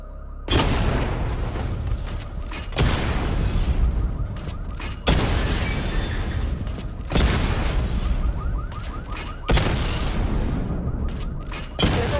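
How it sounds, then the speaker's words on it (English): Missile barrage explosions in Batman Arkham Knight: five heavy, booming bursts strike at roughly two-second intervals, each a loud blast trailing into rumbling debris before the next hits. "Charge the missile barrage to level 2 to destroy up to 4 targets at once."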